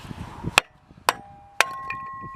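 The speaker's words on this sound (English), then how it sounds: "you can just sit it in here and chop it up into the kindling" A kindling cracker splitting big pieces of already-split firewood into kindling: three sharp, separate chopping cracks spaced about half a second apart, with short metallic ringing after each strike, close and fairly quiet.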